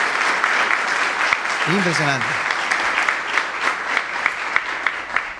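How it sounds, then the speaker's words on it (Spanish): A church audience applauds steadily during a music course at a central church in Oberá, Misiones, with a voice briefly speaking over the clapping and scattered sharper claps standing out toward the end. "¿podemos repetir ese aplauso, por favor?"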